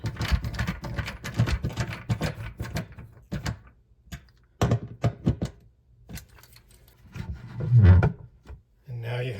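Screws are driven into IKEA PAX soft-close door hinges, giving bursts of close wooden creaks and rubbing scrapes with short pauses between them, and no voices.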